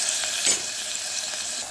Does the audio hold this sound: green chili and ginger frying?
yes